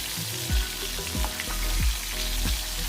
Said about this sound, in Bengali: এবার এপিট ওপিট ভালোভাবে মাছগুলো ভেজে নেব